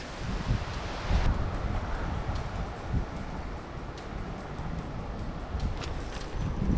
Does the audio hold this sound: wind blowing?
yes